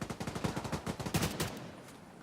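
Rapid automatic AK rifle fire in The Division 2, a fast regular burst of shots for over a second, then dying away, moderately loud with no talk.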